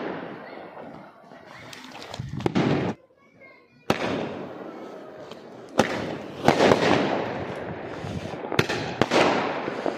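Diwali firecrackers burst and crackle in loud, sharp bangs with long sputtering fizz between them, close by, broken by a brief near-silence, while people talk nearby.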